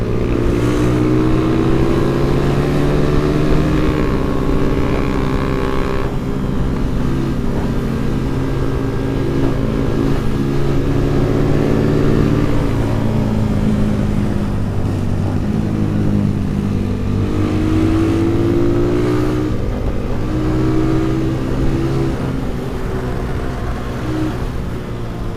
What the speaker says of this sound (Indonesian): itu motor trail kenceng banget ya, KTM gitu